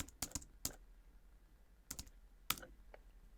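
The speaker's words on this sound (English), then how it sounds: "So let's just type in get status." Scattered clicks of a computer keyboard as a git status command is typed, a few quick keystrokes in small bursts with short pauses, close and quiet, no voices.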